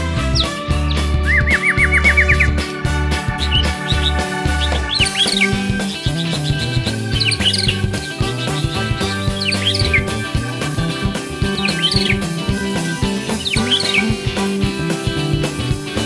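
A white-rumped shama (murai batu) sings continuously and loudly close by, with rapid chirps, whistled trills and varied phrases. Other tonal sounds layer underneath, and no one speaks.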